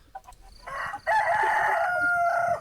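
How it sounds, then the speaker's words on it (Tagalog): Chickens cluck, then a rooster crows loudly and at length outdoors at Liwasang Bonifacio, the crow holding steady and close after a few short clucks. "Parang may mga manok."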